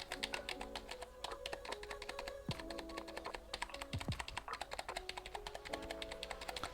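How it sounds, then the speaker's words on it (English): Soft, quick typing on a Seenda wireless backlit keyboard, a rapid stream of quiet, non-clicky key taps with no voices, fairly close and continuous. "So the keys, guys, are very quiet. They're not like super clicky or mechanical"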